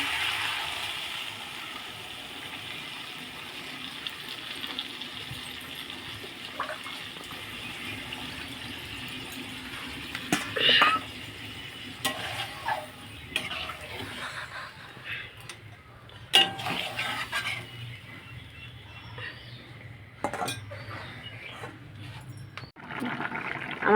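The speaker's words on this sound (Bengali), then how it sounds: "দেখুন এবারে আমি পরিমাণ মতন জল দিয়ে দেবো" Water poured into a pot of thin Bengali fish curry made with bata fish, a steady splash and trickle running through most of the stretch at moderate loudness, with a few louder clatters and splashes near the end.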